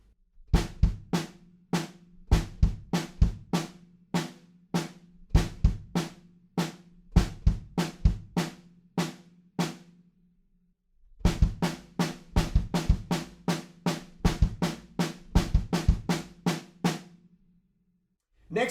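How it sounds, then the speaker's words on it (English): Kick drum and snare on a drum kit play a steady rock backbeat, the snare on every beat with kick strokes between, loud and close with ringing decay; the groove stops briefly near the middle, then resumes and runs on. "we add some kick drums that sound like this."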